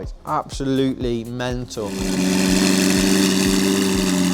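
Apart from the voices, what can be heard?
McLaren 720 with Novitec exhaust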